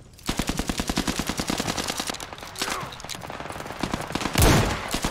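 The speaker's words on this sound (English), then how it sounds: "We're taking fire." Automatic gunfire rattles in rapid, evenly spaced bursts in the VR shooter Zero Caliber, loud and close, with a heavier blast near the end.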